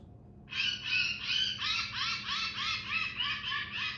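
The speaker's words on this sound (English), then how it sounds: "Let's see, we'll play the mouse." Played-back recording of a mouse call: a continuous run of rapid, buzzy high-pitched chirps pulsing steadily for several seconds over a low background hum, moderately loud with no talking.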